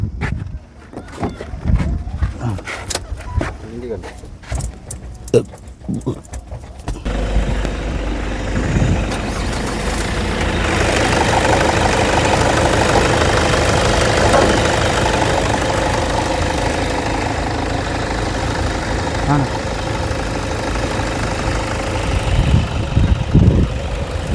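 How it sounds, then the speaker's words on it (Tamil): Vehicle engine being started after a run of clatter and handling noises, then settling into a steady, loud idle with mid-pitched rumble and vibration, close by, running on without voices. "வண்டி ஸ்டார்ட் பண்ணி காட்டுறேன் பாருங்கள்"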